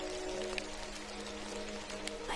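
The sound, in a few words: rain falling at night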